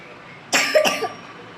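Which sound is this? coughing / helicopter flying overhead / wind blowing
coughing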